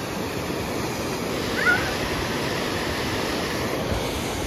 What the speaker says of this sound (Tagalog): Ito na pala yung waterfalls!